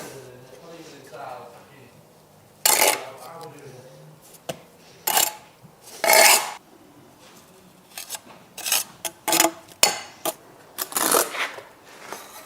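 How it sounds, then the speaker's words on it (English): Steel trowel scraping excess mortar off a red brick wall, heard as repeated broadband rasping strokes in short bursts, fairly close, alternating with quieter pauses and some background talk. "I'm scraping forward here, collecting the excess."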